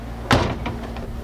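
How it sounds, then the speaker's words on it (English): Door of a 1967 Chevrolet Chevelle SS396 convertible closes with one sharp, solid thunk up close, followed by a brief rattle of the latch settling, no talking. "Door operates nice."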